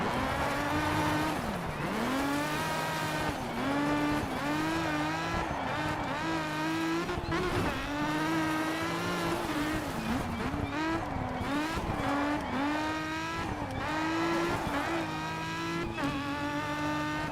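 Race car engines in the video game DiRT 2 roar and rev continuously with rising and falling pitch, tires squealing at times, loud and steady throughout with no talking.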